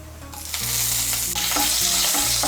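Green chili and black cumin dropped into hot oil: a loud sizzle that swells after the first half second and keeps crackling steadily, alone with no talk.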